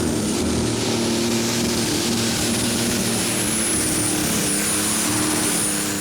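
Rocket Science, a Dutch pulling truck powered by a DAF truck engine, roars loudly and steadily at a tractor pulling European Championship in Norway, a dense sustained engine drone with a high whine running through it.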